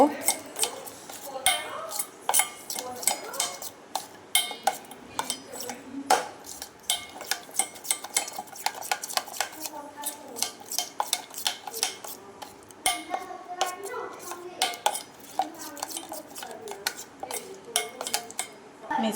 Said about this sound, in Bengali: সব শেষে দিয়ে দিলাম ভুনা বেসন মিশ্রণটা খুব ভালো করে মিশিয়ে নেব